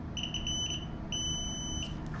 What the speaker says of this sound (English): this also gives continuity, so you'll hear a beep.